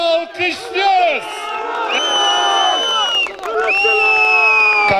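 A crowd at a snow festival cheers and whoops in loud overlapping shouts and sustained cries, with voices carrying through.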